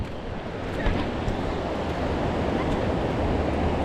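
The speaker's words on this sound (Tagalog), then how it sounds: "Nasalpo na malakas na alon." Loud, continuous rush of surf and churning water, mixed with heavy wind buffeting the microphone, steady throughout with no voices.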